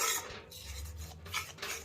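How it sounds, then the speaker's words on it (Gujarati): Flour being roasted in a pan and stirred slowly over a gas flame, giving close raspy scrapes and rubs in uneven strokes with a low hum underneath and no voices. "થોડું ડાર્ક કલરનું થાય ત્યાં સુધી લોટને હલાવતા રહેવું"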